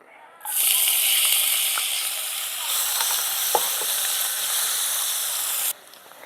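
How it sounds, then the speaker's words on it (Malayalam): Crushed onion and garlic drop into hot coconut oil and burst into a loud, close sizzle that holds steady for about five seconds, then cuts off abruptly. "അതിന് വെളിച്ചെണ്ണ ഒഴിച്ചിട്ടുണ്ട്. ഇനി ഇത് ഉള്ളിയും വെളുത്തുള്ളിയും കൂടി ഒന്ന് ചതച്ചെടുത്തതാണ്. ഇതും കൂടി നമുക്ക് ഇതിലിട്ട് കൊടുക്കും."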